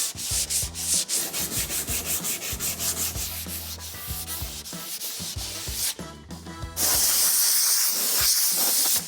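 Sun-damaged ABS plastic body parts on a lowered two-door Tahoe being hand sanded with 180 grit sandpaper pads, a rhythmic run of close, scratchy back-and-forth strokes followed by a longer continuous rasp.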